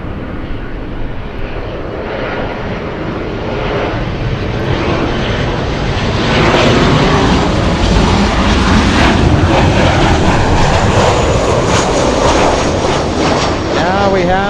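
Jet airliners at LAX, including a Southwest 737 and a large 777, with a loud, steady engine roar that slowly builds and holds, accompanied by talking.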